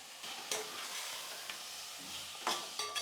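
Masala and radish stir-fried in oil for a Tamil home-style lunch, giving a steady soft sizzle with spoon scrapes near 0.5, 2.5 and 3 seconds, close and moderately quiet, with no voices.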